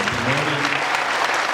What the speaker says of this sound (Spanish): un gran aplauso, un fuerte aplauso por este testimonio